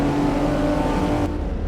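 Banger race cars at an unlimited national bangers meeting at Stoke, engines roaring steadily close by as they cross the finish line, a broad continuous motor rumble that eases slightly near the end.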